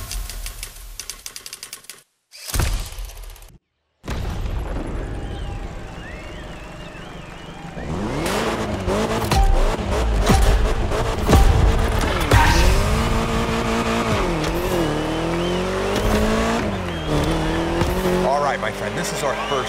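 Car racing in The Crew Motorfest with a roaring engine, repeated tire squeals and skids, loud and continuous after a few brief cuts of silence, with voices speaking over it early on.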